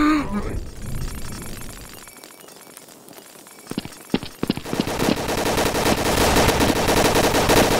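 Gunfire in the video game Counter-Strike: Source on a Zombie Escape map, scattered sharp shots that build into a continuous loud barrage of automatic fire.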